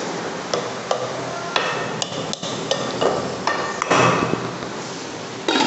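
A spoon stirs tomatoes, green chillies, water and lentils in a pot for a mash daal fry, giving a series of sharp knocks and scrapes against the vessel at an uneven pace, close and without talk.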